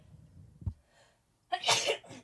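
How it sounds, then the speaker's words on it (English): A single close sneeze from a person during a relaxed podcast chat, preceded by a short sniffing intake of breath and then a sharp burst. "Okay, I'm going to sneeze."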